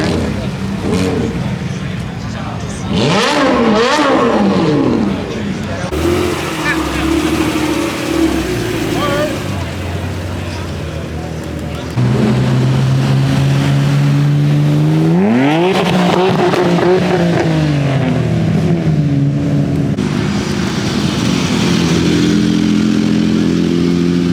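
Cars and motorcycles idle and rev in a hill climb staging area at a Canadian speed festival, several engines close by, with repeated throttle blips and one rising acceleration sweep, and someone talking over the noise throughout.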